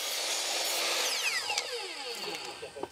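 Power saw cutting through wood at a home construction site, a continuous loud whine with falling and rising pitch sweeps as the blade works through the board.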